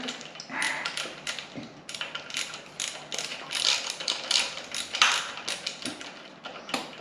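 A ratchet undoes nuts on a Bristol Hercules 14-cylinder sleeve-valve radial engine, giving a steady run of fast metallic clicking strokes in repeated bursts, close and clear with no talk.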